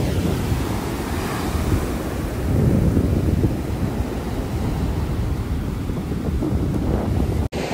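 Continuous low rumble of ocean surf mixed with wind buffeting the microphone, steady and loud throughout.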